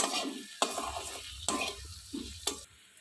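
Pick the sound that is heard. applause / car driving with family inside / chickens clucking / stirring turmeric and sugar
stirring turmeric and sugar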